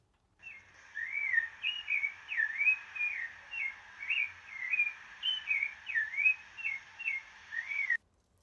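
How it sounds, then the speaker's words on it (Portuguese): A rufous-bellied thrush (sabiá laranjeira) sings a steady string of clear, fluting, warbled phrases, close and alone against a quiet background for about seven seconds. "a gente pode perceber a diferença no canto do sabiá laranjeira"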